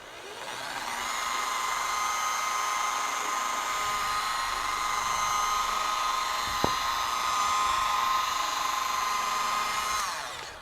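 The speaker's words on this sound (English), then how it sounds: "I'm just going to guide the polisher. Let the polishers do the work." A rotary polisher with a foam pad buffs car paint using Meguiar's M8632 Mirror Glaze cut and polish cream, a steady whining hum held for about ten seconds with one sharp click midway.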